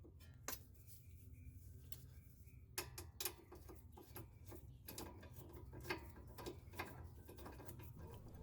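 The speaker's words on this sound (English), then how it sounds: "let's try it with a longer ratchet" Ratchet wrench loosening the nut on a car's sway bar end link, heard as irregular clicking and metallic taps at close range over a steady low background hum.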